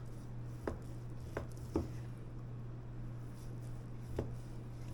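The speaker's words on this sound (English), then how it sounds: "I think I'm just going to go ahead and cut this up, slice it up." Knife cutting through baked macaroni and cheese, a few faint separate taps and scrapes against the dish, spaced irregularly over a quiet steady hum.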